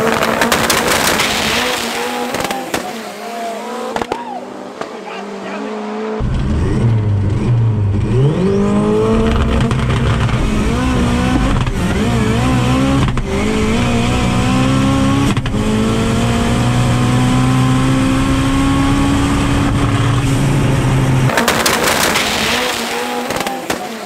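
Drag race cars, the fastest pushrod machines, launch side by side down the Midvaal Raceway strip in a national drag challenge round, loud engines roaring and rising in pitch continuously as they accelerate away.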